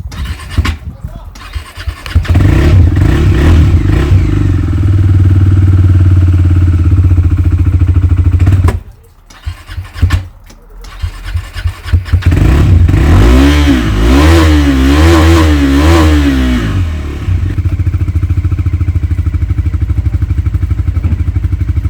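Motorcycle being kick-started and revved during a Ranchi to Kashmir and Ladakh ride: loud close engine idling and rumbling, a brief cut-out, then restarting with rising and falling revs, with a voice talking over parts of it.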